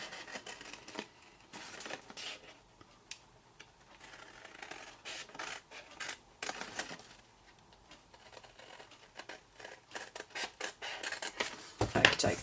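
Scissors snip through cardstock in a papercraft session using Stampin' Up! supplies, with soft irregular cuts and paper rustling close by, faint, and ending with a louder handling clatter.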